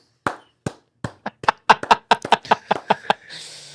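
A small crowd claps in scattered, uneven bursts that build into a quick run of sharp, close hand claps, then fade into a soft, diffuse patter.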